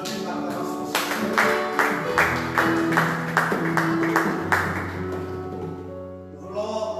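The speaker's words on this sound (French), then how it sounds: "On peut donner l'acclamation, Seigneur" A church congregation claps in rhythm during worship, the beats steady and moderately loud over sustained organ or keyboard chords and singing, with the clapping fading out as the music continues.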